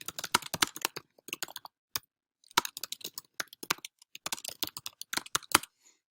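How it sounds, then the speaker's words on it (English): Typing a paragraph on a computer keyboard: bursts of quick, crisp key clicks in uneven runs with short pauses between, close and clear, no talking. "I'm just going to go ahead and type a paragraph"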